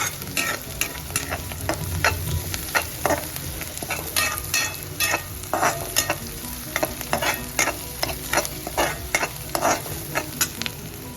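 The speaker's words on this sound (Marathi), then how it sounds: "कांदा आणि मिरची जरा आपण मी परतवून घेऊया" Onion and four medium-hot green chilies sautéed in a pan for a pumpkin sabji, a steady frying sizzle under rapid repeated spatula scrapes and clinks against the pan, close and fairly loud, without speech.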